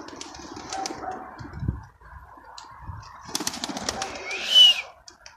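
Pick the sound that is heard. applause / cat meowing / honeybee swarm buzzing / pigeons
pigeons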